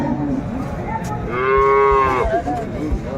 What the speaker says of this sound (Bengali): বেশ সুন্দর গাভী বাছুর আমরা দেখছিলাম এখানে